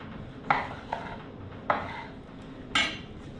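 A knife cuts a raw pork belly in half, giving four sharp, close knocks against the board at uneven intervals with quiet pauses between them.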